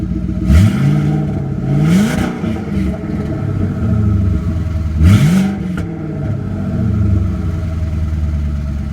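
A Ford Coyote V8 with an On3 twin turbo kit runs steadily at a deep, loud idle, broken by a few quick throttle blips that rise and fall in pitch.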